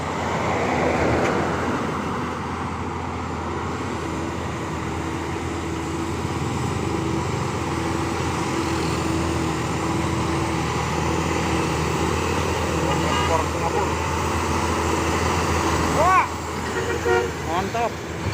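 A Mitsubishi Fuso Super Great truck rolls past on a road with a continuous rumble of traffic. Short horn toots sound near the end, and people talk over the passing vehicle.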